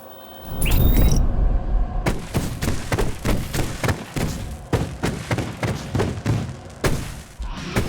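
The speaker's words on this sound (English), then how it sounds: "Lots of fireworks here." Fireworks in the video game Alan Wake Remastered go off as a steady run of sharp, loud bangs and thuds, repeating roughly every half second, following an opening burst of whistling and crackle.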